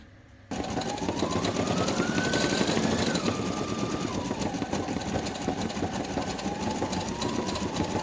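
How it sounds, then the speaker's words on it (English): A Brother NQ1700E embroidery machine stitches a butterfly design, starting abruptly and then chattering in a rapid, steady mechanical rhythm with a shifting motor whine, close and continuous. "let's see what my machine's doing"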